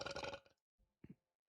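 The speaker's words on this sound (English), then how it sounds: "Sorry, I had to burp." A single loud, close burp rumbles out at the start, followed by a short pause and a couple of faint throaty grunts or swallows.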